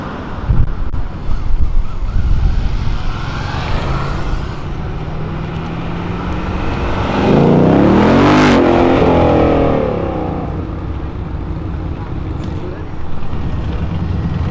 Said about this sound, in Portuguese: tá passando um carro atrás do outro